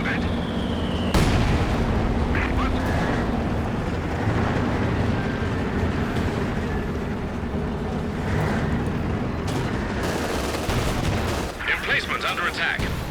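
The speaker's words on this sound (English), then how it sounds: "Mortar, 120mm mortars, wipes out one of the Grenadiers" Mortar rounds from 120mm mortars fire and land in a Company of Heroes 2 battle, a steady barrage of booms and explosions over dense ongoing combat noise, with game announcer voices mixed in.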